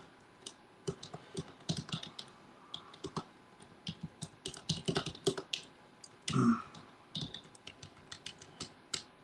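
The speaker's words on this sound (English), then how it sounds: "I'm typing something in the chat real quick here." Rapid, uneven clicks of typing on a computer keyboard, close and fairly quiet, in irregular bursts with brief pauses and one louder knock midway, no talking.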